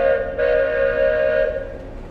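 A train, with a tonal whistle or horn sounding over a rumbling rail background, stays steady and moderately loud before fading slightly toward the end.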